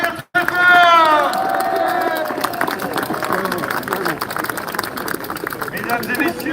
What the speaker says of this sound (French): Myriam Palomba qu'on va applaudir très fort